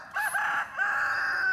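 A rooster crows once, a loud drawn-out call close by, rising then holding steady, with no one talking.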